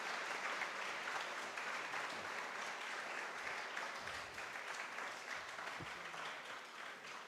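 Sustained audience applause fills a Gujarati literary seminar hall on India's freedom movement, a dense, steady wash of many hands clapping at even loudness throughout, with no voices over it.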